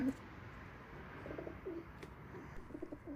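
Malwai pigeons coo softly at night beneath a lit bulb, a few low rounded calls rising over a constant hiss, faint and somewhat distant.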